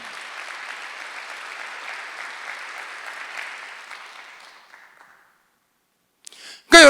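A church congregation claps together through a Sunday worship service, a broad wash of applause that holds steady, then fades out into silence before a sudden loud noise at the very end.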